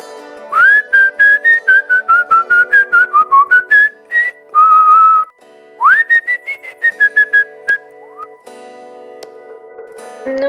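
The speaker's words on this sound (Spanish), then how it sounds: "Número 3. El silbido." A person whistles a lively melody of many short, clear notes with a few longer sliding and held tones, close and loud, alone with no talking over it.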